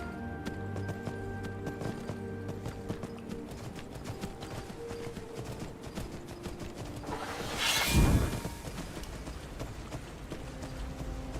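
Horse hooves in the game Skyrim clip-clop in a steady, even rhythm throughout, with a louder whooshing swell partway through.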